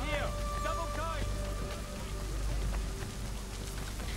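Rain falls over a city at night in the game Assassin's Creed III, a steady hissing patter that runs throughout while a voice speaks briefly near the start.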